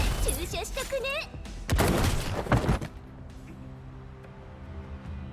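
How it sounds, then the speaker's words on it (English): Gunfire from the video game Girls Frontline 2: Exilium, fired at defense robots. A voice comes first, then a dense burst of shots and blasts fills the middle, fading into a low musical hum. "As the final gunshot rings out"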